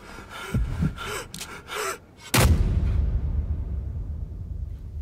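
Gunfire in Call of Duty: Modern Warfare: one loud, sharp blast midway with a long rumbling tail, following breathy gasps and brief vocal sounds.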